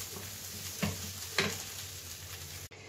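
Quiet, soft sizzling of onions frying in a pan, with a couple of brief scraping stirs and a small knock near the end.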